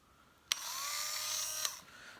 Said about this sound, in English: I've got my Dremel set up